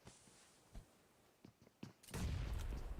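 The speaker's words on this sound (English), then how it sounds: "the nades are coming in thick and fast" Grenades burst in PUBG Mobile during a pro women's league grand final, several sharp thuds spaced apart, then a heavy, sustained explosive rumble filling the last second, fairly faint overall.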